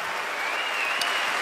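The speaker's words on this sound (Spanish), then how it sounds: "un aplauso muy grande," An audience at a concert in Ordizia applauding for Alberto, a dense steady wash of clapping from many hands, sustained and fairly close.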